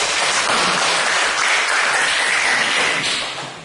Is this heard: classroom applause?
yes